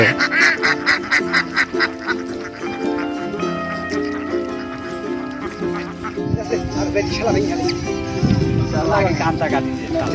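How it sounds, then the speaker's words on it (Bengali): Ducks on a duck farm quack loudly and repeatedly in close, busy bursts, with overlapping calls throughout and some background voices mixed in. "দেখুন হাঁসগুলো কত সুন্দর চড়ে বেড়াচ্ছে"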